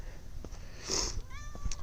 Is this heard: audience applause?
no